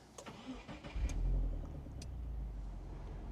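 A manual-transmission car engine cranks and catches in a close cabin, then settles into a steady low idle rumble with no talking.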